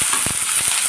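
Steady hiss of chopped onions frying in hot oil, with a few soft low thumps of stirring breaking through the constant sizzle.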